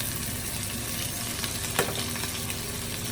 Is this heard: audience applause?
no